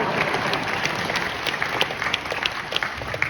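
Studio audience applauding at a television panel show, a steady dense wash of clapping hands throughout with a few sharper individual claps standing out.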